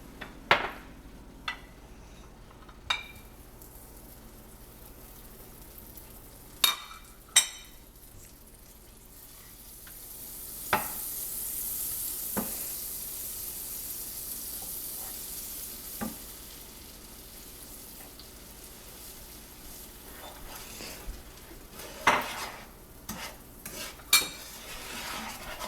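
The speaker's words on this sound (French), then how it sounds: "il faut mettre le beurre et le sucre dans une casserole pour les caraméliser" Butter and sugar caramelizing in a saucepan for a tarte Tatin, a soft continuous sizzle with occasional scrapes and clinks of a utensil stirring against the pan, close and unaccompanied by talk.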